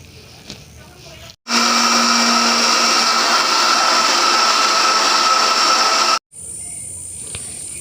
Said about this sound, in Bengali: আমি সব কটা আমের পাল মিক্সিং জারের মধ্যে নিয়ে নিয়েছি। এবার আমি এটা পেস্ট বানিয়ে নেব।